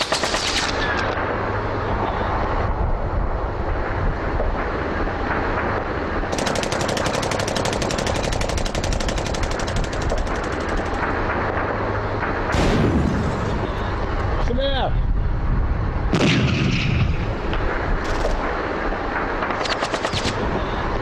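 Sustained automatic gunfire and shooting in a war scene of a Syrian film, dense rapid bursts running throughout with booming impacts, loud and close, with voices speaking over the battle noise.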